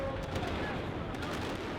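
Fireworks set off at an anti-abortion celebration in Argentina crackle and pop in dense, rapid bursts, a steady distant barrage filling the street noise.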